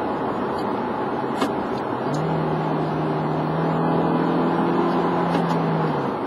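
A 2009 Toyota Corolla XEI with a 1.8 engine drones steadily from inside the cabin while driving, with a rising tonal engine hum in the middle section, moderately loud and continuous.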